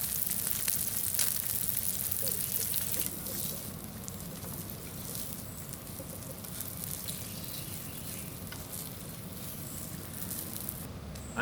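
Breakfast cooking outdoors on a CampMaid camp cooker, a steady close crackling sizzle and hiss of food over the heat that carries on unbroken, louder at first and then settling slightly.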